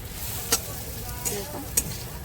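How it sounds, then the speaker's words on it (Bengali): Spice paste with fried potatoes is stir-fried in a pan for a loitta fish recipe. A steady low sizzle runs throughout, broken by three sharp scraping strokes of a spatula. "আমি মশলাটাকে আরেকটু কষিয়ে দেবো"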